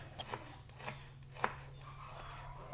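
A knife slices shallots on a cutting board in a few faint, soft taps spread across a quiet kitchen, with no talking.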